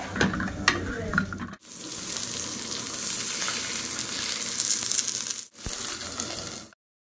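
Fish fries in a hot pan with a dense, steady sizzle and crackle, broken by two brief abrupt silences, with some clinking and scraping of utensils near the start.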